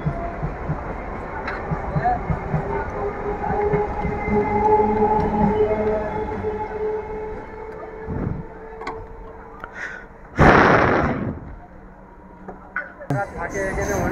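A train pulls into a busy station platform, its low rumble and clatter building, with a brief loud burst near the end, while people talk nearby.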